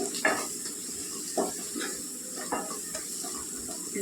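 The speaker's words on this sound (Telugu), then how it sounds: "కొద్దిగా వేగనిస్తే పచ్చివాసన పోద్దండి కారం" Chili powder frying in hot oil in a pan for tomato egg curry, a steady sizzle broken by several sharp spoon scrapes and stirring knocks at uneven intervals, close up and without talk.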